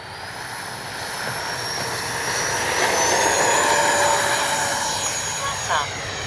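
A Freewing L-15 RC jet with takeoff flaps set rolls out and climbs, its ducted-fan whine building steadily and staying loud and close throughout, with voices talking over the engine noise.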